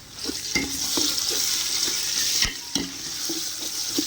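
Ginger garlic paste, about 50 g each of ginger and garlic, sizzles and fries in a pan for chicken biryani while a spoon stirs it with repeated scraping strokes, steady and close with no voices.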